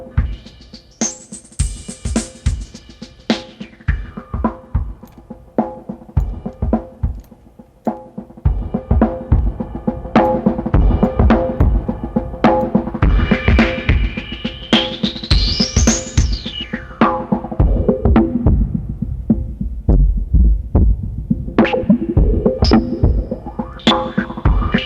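TC Electronic Impact Twin ResFilter plug-in sweeping a resonant filter over a choppy rhythmic loop, the whistling resonant peak gliding up and down across sharp percussive hits, loud and dry with no voices.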